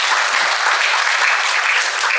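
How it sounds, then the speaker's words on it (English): Dense, loud applause from a lecture audience, an even wash of clapping sustained throughout without pause. "So round of applause for Yungpeng."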